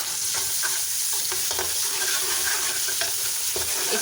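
Ginger garlic paste fries with browned onions in a pan, giving a continuous close sizzle broken by repeated scraping stirs at a loose, steady rhythm, with no talking.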